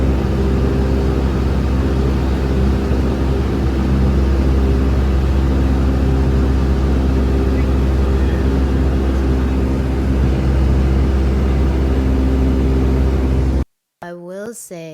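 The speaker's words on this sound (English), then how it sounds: "So I'll let you guys listen more to the plane." Constant loud droning hum of a propeller airplane engine heard from the cabin during a flight in the Philippines, steady throughout before cutting off abruptly near the end.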